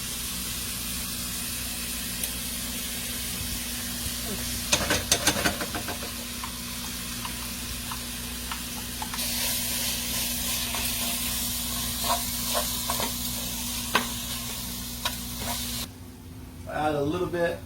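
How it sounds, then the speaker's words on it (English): Tomato paste sizzles steadily in a pan as a homemade spaghetti sauce base is started, a continuous hiss with brief louder spurts of spattering, close and moderately loud with no voice over it. "We add the tomato paste to start the sauce, like the base, it makes it thick."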